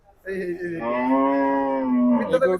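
A single long, loud moo from a cow or bullock at the busy Gabtoli cattle market in Dhaka, heard up close and alone, rising and holding steadily for about two seconds before trailing off.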